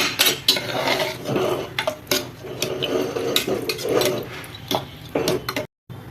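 A spoon stirs paneer biryani masala in a pot from a pressure cooker, giving repeated close metal clinks and scrapes in an irregular rhythm, with a brief quiet gap near the end and no talking.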